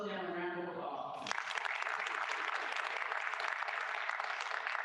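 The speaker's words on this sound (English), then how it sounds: "Let's give both of them a round of applause." An audience at an awards program honoring local African American heroes bursts into a round of applause right after a speaker finishes, the clapping dense and steady for several seconds.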